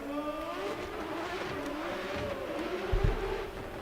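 A drift car at a drift championship qualifying round pulling away from the start line, its engine revving and rising in pitch as it accelerates, heard from a moderate distance with a brief thump near the end.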